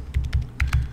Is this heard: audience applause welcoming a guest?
no